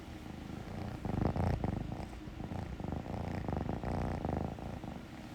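A kitten purrs close by in steady, rhythmic pulses that continue throughout with slight swells in loudness, with no talking.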